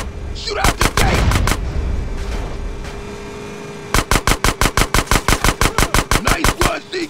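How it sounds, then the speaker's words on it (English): Automatic gunfire in GTA San Andreas as an old sewer gate is shot out: a short rapid burst of loud, close shots, a pause with lingering echo, then a longer steady volley of evenly spaced cracks. "Shoot out the gate."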